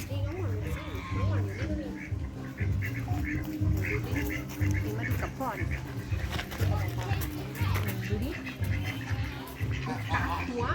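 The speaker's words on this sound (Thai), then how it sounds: "เป็ดมงกุฎขาวอ่ะเนี่ย" White-crested ducks quack repeatedly in a steady chorus at a farm village pond in Sa Kaeo, Thailand, loud and close, with people talking over them throughout.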